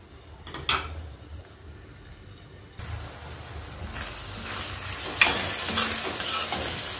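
Ridge gourd and prawns frying in oil in a pan, a steady sizzle that swells louder partway through, with occasional stirring scrapes and utensil clinks and no speech.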